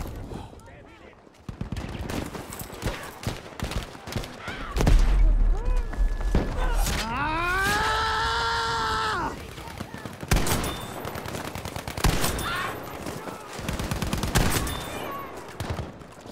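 Video game gunfire crackles in repeated bursts and sharp shots over several seconds, mixed with a sustained rising and falling tone and in-game voices.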